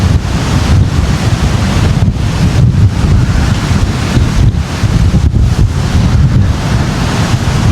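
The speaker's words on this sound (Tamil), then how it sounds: "கடல் எவ்வளோ வேகமாக அடித்து கொண்டு உயர்ந்து வருதுன்னு பாருங்க." A rough, storm-driven sea on the Jaffna coast surges and crashes continuously, loud and close, with heavy wind buffeting the microphone.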